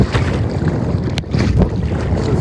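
Strong wind and choppy waves slap against a kayak on Lake Athabasca in gusty 30 km/h winds, a loud, close, constant roar of wind buffeting and splashing water with no voices.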